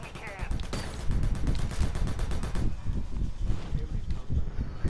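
Gunfire in Predator: Hunting Grounds, a rapid run of repeated shots in a steady rhythm that thins into scattered bursts and rustling outdoor ambience, with speech faintly mixed in.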